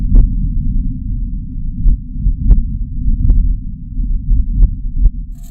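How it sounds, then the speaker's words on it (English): Low, muffled rumble of wind on Mars recorded by a rover, buffeting steadily, with a handful of faint clicks scattered over the drone. "the wind on the red planet sounds like this"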